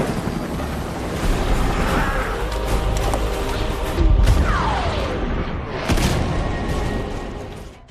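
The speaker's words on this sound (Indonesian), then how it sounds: "Ledakan itu pun amatlah dahsyat" Heavy booming explosions rumble through a dense, loud mix, with two deep blasts standing out a couple of seconds apart amid roaring debris.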